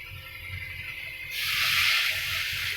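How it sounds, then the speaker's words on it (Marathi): Water goes into roasted masala in a hot pan for egg curry masala, and a low background hiss jumps abruptly into a loud, broad sizzling rush that carries on steadily to the end. "मसाला आपला भाजला गेला आहे. ह्यात आपण थोडं पाणी ॲड करूया."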